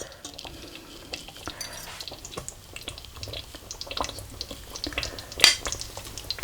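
A spoon lifts a piece of lamb out of a simmering curry pot, with light clinks and scrapes against the metal over a soft bubbling, wet background, close and fairly quiet, with one sharper knock near the end.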